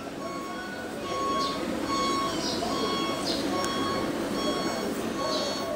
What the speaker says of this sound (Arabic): ده صوت عربية عندنا بره.